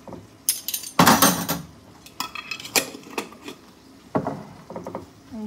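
Spoon scraping and clinking against a bowl while ranch dressing is stirred, a burst of loud clatter followed by several lighter knocks and scrapes, close and alone.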